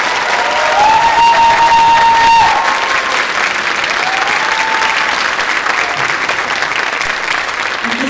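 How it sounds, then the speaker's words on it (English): A concert audience applauds a retiring teacher at a spring school concert, loud sustained clapping and cheering filling the hall, with a few brief tones and faint voices under the applause. "Can we give him another round of applause"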